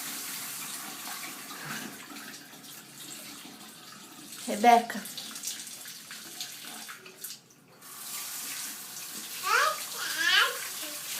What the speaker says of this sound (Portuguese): abriu a porta do banheiro e tá tomando um banho de torneira?